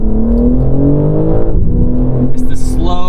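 A 2022 BMW M3 Competition xDrive (G80) engine pulls hard in second gear from around 4,000 RPM, its close, loud, rising harmonic growl climbing steadily and briefly dipping before surging again.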